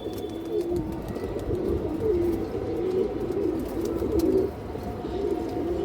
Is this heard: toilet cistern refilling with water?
no